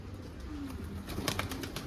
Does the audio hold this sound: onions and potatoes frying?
no